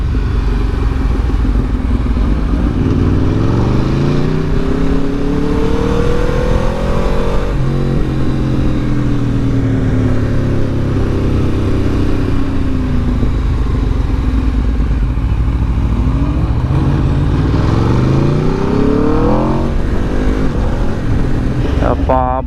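Loud, continuous KTM RC 390-class RS457 motorcycle engine droning and rising through gear changes as it rides along hilly roads, with wind rumble throughout.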